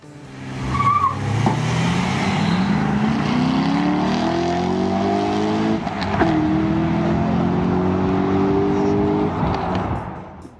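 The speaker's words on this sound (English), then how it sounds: "And just watch how the GMC Cyclone destroys the sports car from Corvette." A GMC Cyclone SUV races a Corvette sports car, engines revving up through rising gears with tire squeal, loud and close, over about ten seconds.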